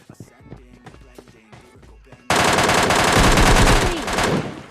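Gunfire in PUBG Mobile Lite: scattered single shots at first, then a sudden, loud, sustained burst of rapid automatic fire close up.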